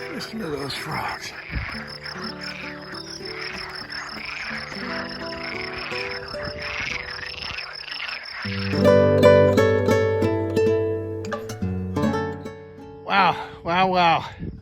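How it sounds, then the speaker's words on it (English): Frogs croak in a steady chorus along a hillside stretch of the Camino de Santiago in Spain near the medieval town of Foncebadón, mixed with insect chirps, while a person talks over them and music-like tones swell later. "Listen to those frogs."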